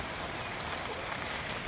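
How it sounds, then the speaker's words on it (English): Rain falling outdoors over a free-range chicken yard, a dense steady hiss of drops, loud and uniform throughout with no clear voices. "the rain is slowly starting to penetrate"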